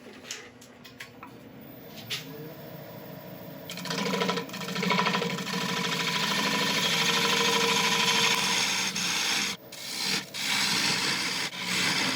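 A woodturning tool cuts a nine-sided beech bowl spinning on a lathe: light ticks and taps at first, then a loud sustained scraping cut from about four seconds, briefly interrupted twice near the end.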